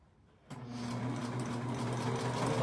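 A sewing machine starts up and runs at a steady, buzzing pace, stitching doll underwear (a small fabric bloomer) close by with no talk over it.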